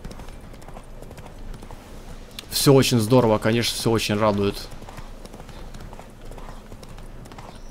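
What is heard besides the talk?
horse galloping in The Witcher 3 video game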